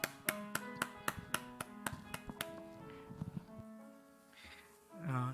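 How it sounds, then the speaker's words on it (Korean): Congregation at a Korean church's Sunday morning Christmas-season worship service gives blessing applause, heard as a run of sharp, evenly spaced claps that thins out and fades, with a voice briefly rising at the end. "축복의 박수를 함께 나눕니다."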